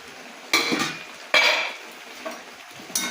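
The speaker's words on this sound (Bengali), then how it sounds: "এবার ঢাকনাটা খুলে দেখি মোচাটা আমার কতটা সেদ্ধ হয়েছে।" A lid is lifted off a cooking pot of boiling banana flower in a home kitchen, giving three sharp metallic clatters spaced over a few seconds against a soft steady background hiss.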